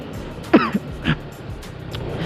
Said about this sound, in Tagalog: Huwag nyong gayahin yun, umuubo.